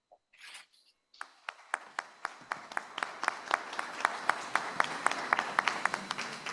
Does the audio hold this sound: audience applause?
yes